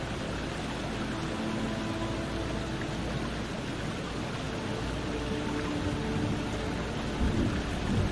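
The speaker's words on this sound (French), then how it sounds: "il pleut, c'est tout trempé, mais c'est beau quand même" Steady heavy rain pours through a video game forest, with rolling thunder rumbling continuously underneath, dense and loud with no voices.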